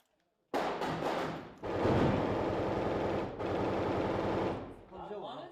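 Bursts of automatic gunfire during an ISIS attack on a house in Iraq, loud and close, coming in several long rattling volleys separated by brief pauses.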